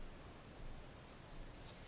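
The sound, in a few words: teeth whitening kit device beeping when finished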